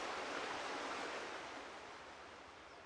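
Waterfall in the video game Farming Simulator 17, a continuous broad rushing hiss of falling water that holds steady and then fades slightly toward the end, with nothing else heard.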